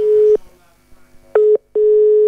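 Telephone busy tone on a live radio phone-in after a caller's line drops: steady pulsed beeps, one long tone, a gap, then two more, loud and close, with faint background between.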